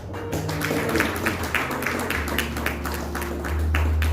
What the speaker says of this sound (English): Y'all give one good clap.